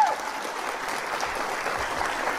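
Applause sound effect played during a French-language online chess broadcast, a steady dense patter of clapping that holds at an even level for a couple of seconds.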